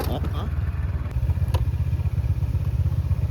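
A motorcycle rides along with a steady, loud low engine drone throughout, with a brief clatter near the start and a short sharp sound around the middle; voices are faintly present.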